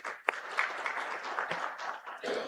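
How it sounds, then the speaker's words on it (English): An audience applauds at a silver jubilee programme, a steady, moderately distant wash of many hands clapping that holds for the whole stretch, with one sharper clap standing out early on. "Please congratulate yourself for a big round of applause for successful achievements of our predecessors."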